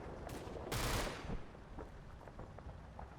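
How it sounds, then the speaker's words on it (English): Incoming gunfire in the WWII strategy game Combat Mission: Battle for Normandy: a loud burst of rattling fire rises, then fades into scattered, fainter shots without any talking. "Oh no, it's incoming fire."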